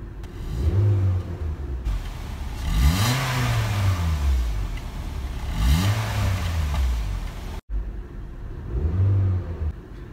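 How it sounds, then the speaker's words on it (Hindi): A brand-new black 2020 Honda BR-V's engine is revved several times while stationary, with distinct rising and falling blips over a steady idle, loud and close. "अब चलें इसका इंजन साउंड सुनते हैं अपन।"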